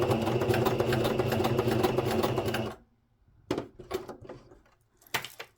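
A sewing machine stitching a coin purse runs steadily for a few seconds, then stops, followed by quieter handling clicks and rustles of fabric nearby.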